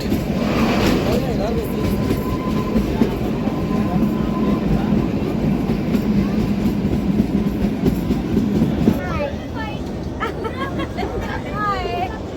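Kalka–Shimla toy train in Himachal running along the tracks, with a loud steady rumble and rhythmic clatter of the carriages, while people talk over it; near the end the noise drops and brief squeals of wheels are heard.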